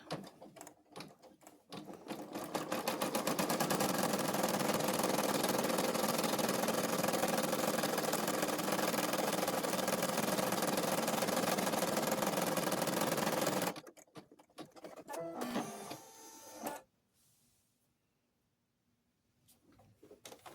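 An embroidery machine stitches out a beginner cloth doll piece, a loud, steady, fast mechanical whirring and clattering that runs for several seconds, then stops, followed by a few handling clicks and near silence.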